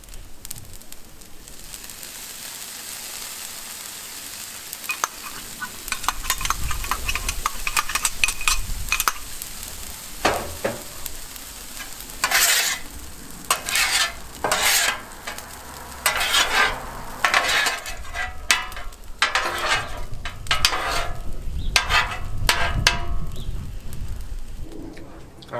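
Fried rice with green onions and sauce sizzles on a Blackstone griddle outdoors, with a steady frying hiss and repeated sharp scraping strokes of a spatula, while doves coo faintly in the background.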